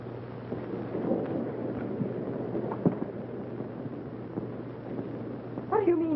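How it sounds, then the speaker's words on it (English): Low, rolling thunder from a storm in the 1934 film Jane Eyre rumbles steadily with a few cracks, and a voice speaks briefly near the end. "they have thunder and lightning."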